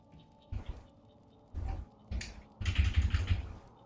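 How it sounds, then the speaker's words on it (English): Computer keyboard typing heard close up during Mass Effect play: short bursts of key clicks, a few separate taps and then a quick run of keystrokes, with no talking. "Did my keyboard suddenly stop working?"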